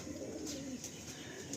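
Antique pigeon, a male in a breeding pair, coos in a low soft rolling call close by, a brief continuous burr with faint background noise.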